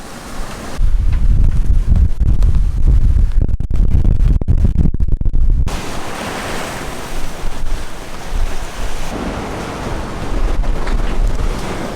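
Strong wind roars across a sailboat at sea in rough, cyclone-dodging conditions with eight-foot swells, a loud continuous buffeting rush that blasts the microphone and then settles into a steadier whoosh of wind and surf.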